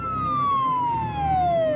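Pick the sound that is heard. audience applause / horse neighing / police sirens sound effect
police sirens sound effect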